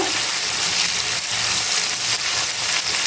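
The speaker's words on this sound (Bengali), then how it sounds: "পেঁয়াজটাকে আমি একটু লাল করে ভেজে নিব।" Steady, loud sizzling of onions frying in hot oil in a pan, continuous crackle with no voices.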